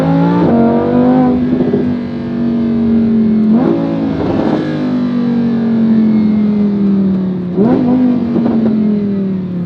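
A 2017 Lamborghini Huracan LP580 engine in sport mode, droning loud and close at steady revs, with three sharp shifts where the pitch drops and then climbs again, no voices.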